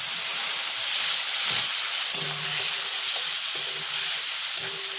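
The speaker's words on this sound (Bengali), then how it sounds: "এগুলো ভালো করে কষা করি" Spice masala with Kashmiri chili powder and tomato fries in a pan with a steady, even sizzle and hiss, broken by a few light clicks and scrapes from stirring.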